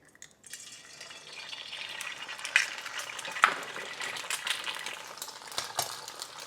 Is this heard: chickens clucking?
no